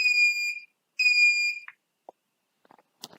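A smartphone-controlled DIY alarm system sounds two loud, high electronic beeps, each about half a second long, followed by a few brief clicks and faint chirps.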